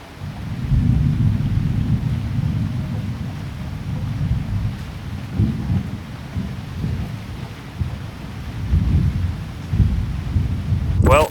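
A thunderstorm rumbles with heavy, rolling thunder over steady rain, as repeated low booms swell and fade while wind buffets the microphone.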